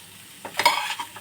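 A spoon stirs tapioca sundal in a pan, a short scraping swirl with a light sizzle, close and fairly loud.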